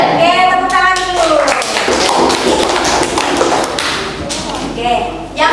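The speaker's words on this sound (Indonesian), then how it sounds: "tepuk tangan dulu" Students in a classroom clap for a group presentation, a steady burst of hand claps and taps over several seconds with voices calling out over the applause.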